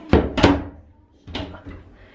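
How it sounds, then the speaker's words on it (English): A toilet door bangs shut with two quick hollow thuds, then a third softer knock a moment later, close by in a small room. "Look at the door when the door closes."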